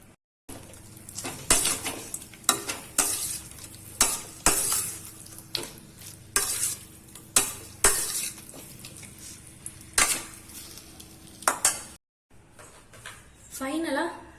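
Cauliflower Manchurian being stirred and tossed in a frying pan, with repeated spoon scrapes and clanks against the pan at an uneven rhythm over a soft sizzle, close by, with speech in between.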